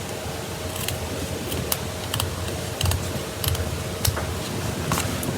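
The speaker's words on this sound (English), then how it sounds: "Which I'm going to use my glue scissors" Glue scissors snip away excess gold paper around a die-cut shape in a crafting session, a series of crisp, close, evenly spaced cuts over a steady background hiss.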